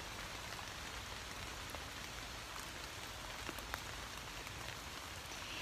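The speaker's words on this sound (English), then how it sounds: "a bit like what it is today, pouring down heavy rain" Steady rain pours down heavily, a dense even hiss with occasional louder drops, and no voices.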